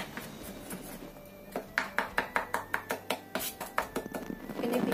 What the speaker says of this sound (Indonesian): Kita cincang halus lagi bawang putihnya supaya lebih menyerap ke dalam masakan nanti